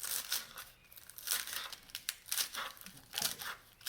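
A knife cutting through fresh fennel, giving crisp crunching, crinkling strokes in an uneven rhythm of several cuts, close and fairly quiet.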